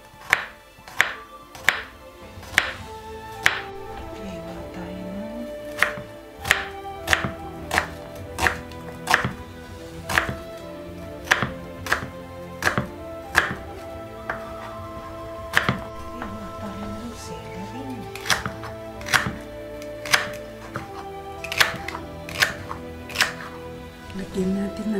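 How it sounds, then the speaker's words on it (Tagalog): A knife chops garlic on a cutting board in a steady run of sharp, close, loud taps spread across the whole stretch, with faint kitchen background underneath. "Hiwa po tayo ng bawang."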